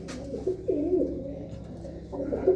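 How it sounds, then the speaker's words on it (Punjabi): Pigeons coo in a loft among their nesting holes, soft repeated throaty coos close by over a faint steady hum. "ਗਿਣਤੀ ਦੇ ਕਬੂਤਰ ਹਰ ਖੁੱਡੇ 'ਚ ਛੱਡੇ ਹੋਏ ਆ"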